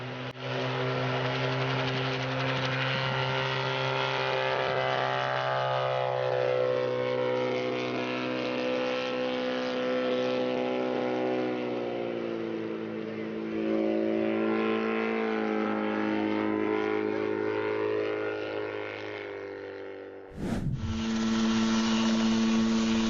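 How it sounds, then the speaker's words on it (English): A homemade helicopter's small engine runs steadily at high revs, droning and buzzing with shifting pitch, then cuts briefly and roars back up near the end. "he's got to wake up his homemade helicopter."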